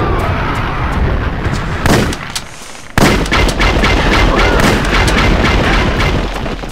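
Gunfire in the video game Tomb Raider: Chronicles, loud repeated booming shots in quick succession with a brief lull before a sharp burst resumes the rapid firing.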